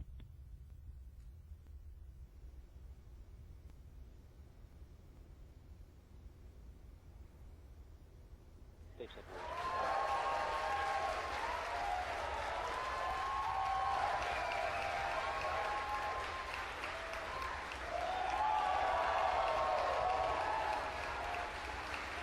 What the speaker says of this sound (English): You hear the cheering.